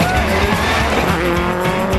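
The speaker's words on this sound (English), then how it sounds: "Ollie O'Donovan and Sean Mullally drift into 10th." A rally car drifts on a stage at the 2004 Rally of the Lakes, its engine loud and close with sustained tire squeal as it slides past.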